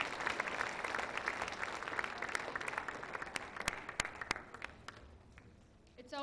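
Audience applauding at a Lacey Township school board meeting, steady dense clapping from a crowd that thins toward the end, with some voices underneath.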